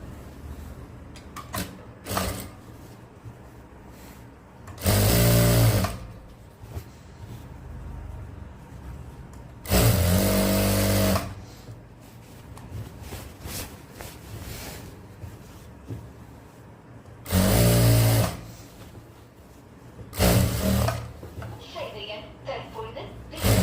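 Sewing machine stitching the side seam of a men's shirt, running in four short, loud bursts of a second or so each, with quieter handling and fabric sounds between them and a voice talking in the gaps.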